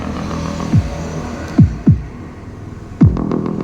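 Four punchy low mid-bass thumps from an 8-inch loudspeaker, irregularly spaced over a steady low hum, each a short booming hit.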